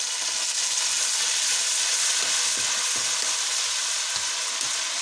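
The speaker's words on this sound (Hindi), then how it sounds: "ये चिकन के पीसेज हैं थोड़े से भी डालेंगे, और सोया सॉस जाएगी" Chicken pieces frying in a pan with spices and soy sauce give a steady, loud sizzle that fills the clip, with faint stirring scrapes underneath and no talking.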